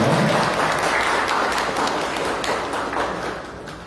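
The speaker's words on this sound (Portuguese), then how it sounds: "Uma salva de palmas para a Ana Célia Julião." An audience at a formal solemn session gives a dense, sustained round of applause during an honorary presentation, full and even before tapering slightly at the end.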